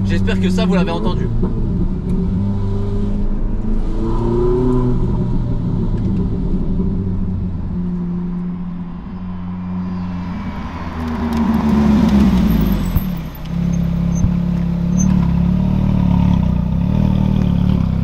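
Naturally aspirated Ferrari 458 Italia engine revving and rumbling loudly inside the car, rising in pitch around the middle, with people talking excitedly over it throughout.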